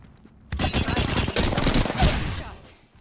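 Rapid automatic gunfire in the shooter game Apex Legends bursts in suddenly after a quiet start, a loud, dense stream of shots with rattling echoes that tapers off over about two seconds.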